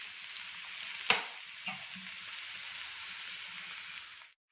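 Crumbled leftover idli tossed in a hot pan with grated carrot, coriander leaves, coconut and salt: a steady soft sizzle with one sharp spoon clack near the start and a lighter scrape soon after.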